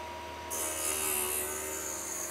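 A Vevor MR13B drill bit sharpener grinds a drill bit, starting abruptly as a steady, bright, hissing abrasive rasp that holds evenly over a low motor hum, close and moderately loud.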